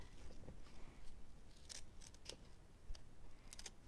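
Scissors snip paper on a papercraft pumpkin project, several short crisp cuts spaced unevenly across the clip, close and fairly quiet with no talking.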